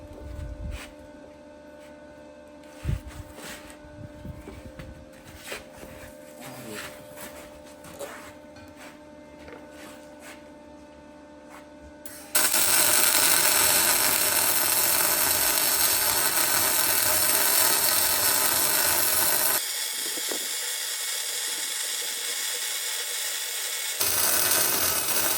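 Welding a high steer kit onto a Ford Super Duty gives a loud, steady crackling hiss that starts abruptly midway, runs for several seconds, dips briefly, then continues, after a quieter stretch of faint handling noises.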